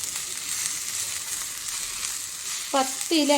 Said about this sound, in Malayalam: എന്നിട്ട് എല്ലാം കൂടി നന്നായിട്ടൊന്ന് മിക്സ് ചെയ്ത് കൊടുക്കാം